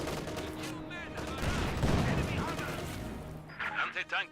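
Gunfire and battle noise in Company of Heroes 2 as infantry fire on Panzer Fusiliers, a dense crackle of shots building to a loud peak, then thinning as game voice lines and speech break in near the end.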